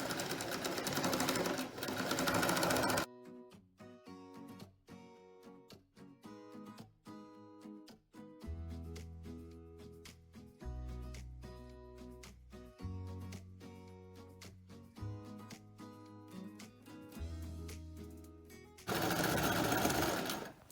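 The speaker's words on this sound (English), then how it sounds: "you just fold the hem as you sew with a very small zigzag stitch" A sewing machine hems a fabric chin strap for a pressure garment with a very small zigzag stitch. Its motor whirs steadily in runs that change speed, with loud noisy stretches at the start and end.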